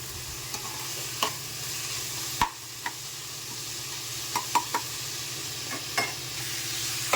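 Onions frying in a pan for a home chicken gravy, a steady close sizzle broken by occasional sharp clicks of stirring, no voices.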